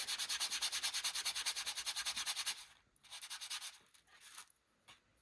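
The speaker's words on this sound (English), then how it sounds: "we are going to sand both sides and make it nice and smooth" Wire eighth-note shapes get sanded smooth on both sides: rapid, rhythmic back-and-forth scratching strokes, close and bright, in one long burst followed by a few shorter, quieter passes.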